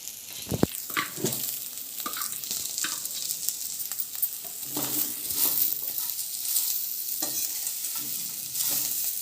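Chopped onion is stirred into vallarai greens in a hot pan for pulao, oil sizzling softly while a spoon scrapes and clinks against the metal in irregular strokes, with no talk.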